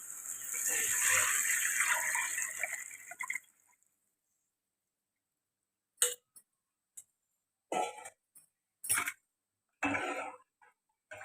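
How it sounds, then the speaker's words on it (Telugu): Water poured from a glass into a pot while making mosque porridge, a steady splashing pour for about three seconds, followed by silence and a few short clinks and knocks. "గ్లాస్తో ఒక ఏడు గ్లాసులు అనేది వాటర్ పోసుకోవాలి కొలిచి పెట్టుకున్న నేను వాటర్ అనేది వేసిస్తున్నాను"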